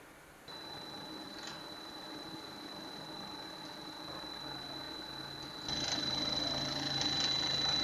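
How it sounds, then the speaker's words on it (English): A diesel common rail HP0 high-pressure pump spins on a CRP870 pump tester bench, a steady mechanical whir with a thin high whine that grows louder partway through, with no talk over it. "HP0 pump testing."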